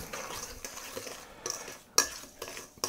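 Spoon stirring a spice mixture for pulled pork in a bowl, soft scraping and scattered clinks of metal against the dish, moderately close with a sharper knock near the end.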